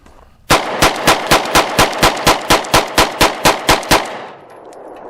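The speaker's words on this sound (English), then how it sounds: "let's get this loaded up and shoot some hollow point ammo" An FN Reflex 9mm pistol fired with Sig hollow point rounds at an outdoor range: a fast, even string of about fifteen loud, close shots, then quiet with a faint ringing tail.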